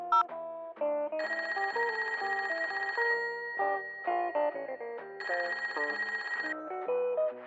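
A telephone rings after a number is dialed, sounding as repeated electronic ringing tones in a clear, melodic pattern with two sustained bursts, alone and moderately loud.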